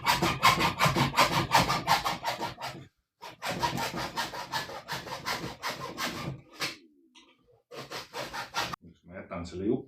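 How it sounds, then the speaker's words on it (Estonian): A hand saw cuts a curve through wood in quick, rhythmic rasping strokes, near and fairly quiet, pausing briefly twice before the sawing resumes in bursts. "Saab kaarekujuliselt saagida."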